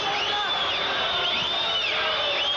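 Arena crowd at a boxing match between Hector Camacho and Cornelius Boza Edwards, a loud continuous roar with rising whistles and shouts that carries on throughout.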